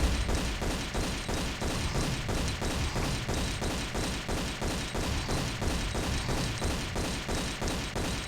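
Rapid, steady gunfire from pistols in a Tomb Raider level game, shots repeating in a dense, even rhythm for the whole stretch at fairly loud level, with thuds underneath and no talking.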